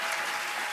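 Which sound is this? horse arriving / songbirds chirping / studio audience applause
studio audience applause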